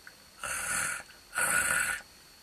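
A beatboxer imitates a snore while inhaling, two close, raspy snoring pulls of about half a second each separated by a short silence.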